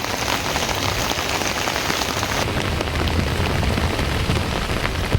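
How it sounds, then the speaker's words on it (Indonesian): Steady rain pours down on a village of simple houses in Cariu, a dense continuous hiss of drops hitting surfaces, close and fairly loud throughout with no voices. "Seperti apa suasananya saat turun hujan."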